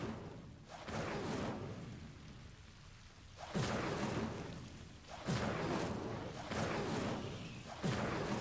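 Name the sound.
Incendio fire spell in video game Hogwarts Legacy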